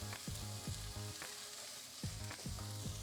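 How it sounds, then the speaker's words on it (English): Ivy gourd (kovakka) sautés in a pan with a constant sizzle, broken by rhythmic spatula scrapes and clanks against the pan at irregular intervals. "So this is the right time to add the kovakka. So I'm going to saute this like 3 minutes."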